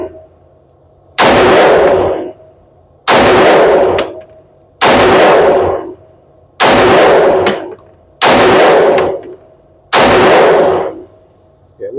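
TISAS 1911 4.25-inch Carry pistol in .45 ACP firing at a target: six loud, sharp shots spaced about two seconds apart, each with a short ringing tail, alone with no talk.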